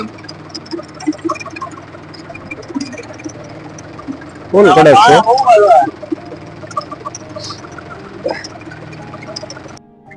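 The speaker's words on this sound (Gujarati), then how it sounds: "આપણું ટ્રેક્ટર હાલે છે" A tractor with a cutter attached works a field of very hard soil, its engine droning steadily throughout at moderate distance, while a person speaks and a brief loud voice burst rises over it midway.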